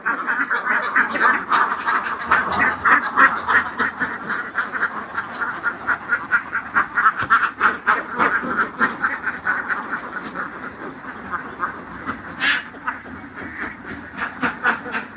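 Ducks on a large duck farm in Laos quack loudly and continuously in a busy, overlapping chorus, close by, with rapid repeated calls throughout.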